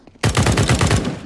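Rapid automatic gunfire from a Counter-Strike 2 match on the Mirage map, a loud burst of about eight evenly spaced shots lasting roughly a second, close and dominant with no talk over it.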